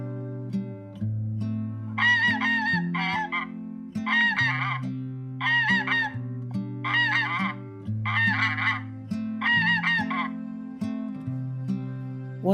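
An animated cartoon goose with a limp honks in a steady series of about seven bursts over a sustained tonal backing.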